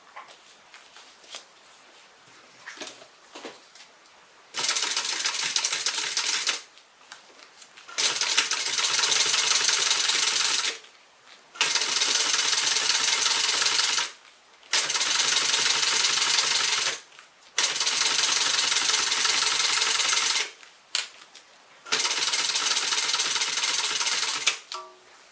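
Sewing machine stitching a seam on a faux croc tote bag, running in six steady bursts of a few seconds each, with short quiet pauses and light handling noises between them.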